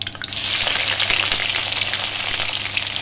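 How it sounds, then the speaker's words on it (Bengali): Onion and green chilli sizzling and frying in a pan with fenugreek, a steady loud crackling hiss with occasional stirring scrapes throughout. "এবার দেবো পেঁয়াজ আর কাঁচা লঙ্কা।"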